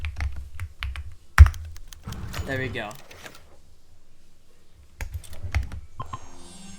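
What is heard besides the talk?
computer keyboard typing a console command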